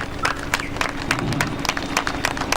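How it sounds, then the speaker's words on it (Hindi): Women seated in an auditorium at a BJP Mahila Morcha gathering applaud loudly, a dense, steady wash of many hands clapping that fills the whole moment without a break. "बहनें जोरदार ताली।"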